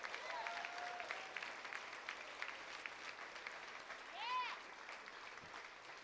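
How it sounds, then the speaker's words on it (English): A crowd at a political campaign event gives law enforcement and constables a round of applause, a steady, moderately distant clapping with a few whistles and cheers rising briefly near the end. "Everybody, just give them a round of applause."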